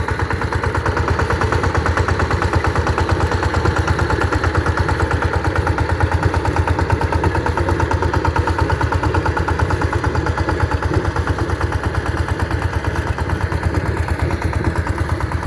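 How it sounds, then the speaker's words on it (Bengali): A Sifang 14 hp, 18-blade power tiller engine running loudly and steadily nearby, a rapid even chugging throb with no voices. "দেখুন চোদ্দো এইচপি আঠেরো ব্লেড পাওয়ার টিলার এটি"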